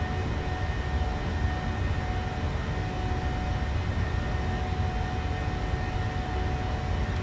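Simulated Boeing 737-800 jet engines at climb power in Microsoft Flight Simulator, a steady, dense broadband roar with faint high whine that holds constant and loud throughout, with no talking.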